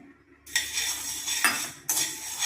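Black peppercorns dry-roast in a pan for rasam powder, rattling and scraping in loud, close bursts as they are stirred, after a quiet start.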